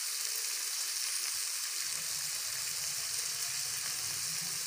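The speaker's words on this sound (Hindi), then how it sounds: "मज़ीद भून लेंगे अच्छी तरह" Chicken macaroni with dried chili sautéing in a pan, a steady, loud sizzle and fry hiss running throughout with faint stirring underneath and no talking.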